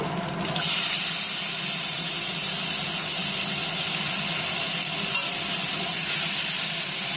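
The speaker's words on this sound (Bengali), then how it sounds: "আর পেঁয়াজ কুচিটা আমি একদম লাল করে ভেজে নেব।" Chopped onion frying in hot oil with nigella seeds for Bengali prawn curry, a steady, loud, continuous sizzle and hiss that holds evenly throughout with no talking.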